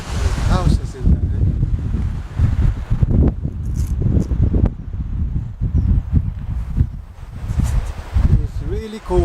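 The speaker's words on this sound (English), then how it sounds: "It's windy." Wind gusting at a cold seaside with houses nearby, rumbling against the microphone in steady low buffeting, with children and adults talking over it.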